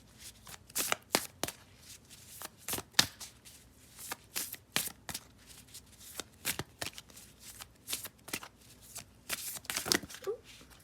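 Work Your Light oracle cards being shuffled by hand, a close run of crisp riffling bursts and soft slaps repeating steadily with no talk.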